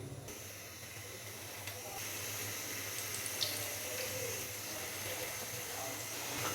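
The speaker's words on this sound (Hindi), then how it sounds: "तो मैंने इसके अंदर 3 पीस चिकन के फ्राई होने के लिए डाल दिए हैं।" Three chicken pieces deep frying in well-heated oil for crispy KFC-style fried chicken, a steady, fairly quiet hiss and sizzle that holds evenly throughout.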